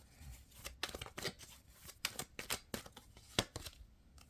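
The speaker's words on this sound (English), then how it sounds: "I'm going to shuffle that again." A deck of tarot cards is shuffled by hand, giving a quick series of soft riffling and snapping bursts, close but faint, with no talk.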